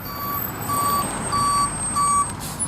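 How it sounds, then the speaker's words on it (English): A reversing truck on a busy street sounds a steady series of loud, evenly spaced beeps over a rumbling engine and traffic noise. "I apologize because there's a lot of traffic."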